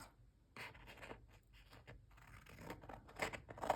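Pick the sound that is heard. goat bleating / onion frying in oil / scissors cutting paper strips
scissors cutting paper strips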